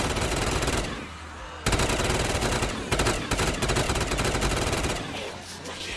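Rapid automatic gunfire from a machine gun in Black Ops 3 Zombies on the Broadcast map, loud sustained bursts with a short pause near the start, close and dense with game effects.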